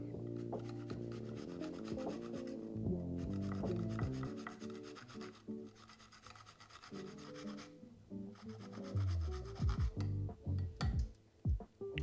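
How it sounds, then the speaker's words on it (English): Fresh cucumber is rubbed against a grater for a Nojito mocktail, making close, raspy scraping strokes in uneven bursts with short pauses between them. A few sharper knocks and scrapes come near the end. "Start off grating some cucumber."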